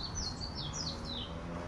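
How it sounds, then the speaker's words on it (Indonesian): A white-eye, the burung pleci, gives a quick run of thin, high chirps from up in a tree on a mountain in Japan, faint against a steady background rumble with no talk. "ini burung pleci nih."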